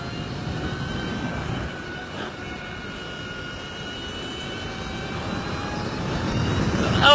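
Lightning LS-218 electric motorcycle accelerating hard with the rear tyre spinning up, a loud, steady broadband roar that swells further toward the end, with no talk.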